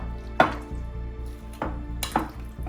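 Buko pandan creamer and small sago tapioca are mixed in a bowl, with a few sharp utensil knocks against the bowl over a low, steady background hum.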